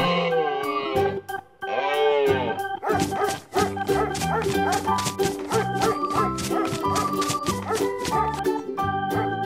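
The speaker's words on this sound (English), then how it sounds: "Dog." A dog barks several times over loud, steady background music with a strong beat.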